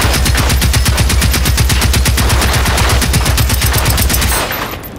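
Rapid automatic gunfire using shock ammo in the Generation Zero video game, a loud, steady burst of evenly spaced shots lasting over four seconds before cutting off into a fading tail.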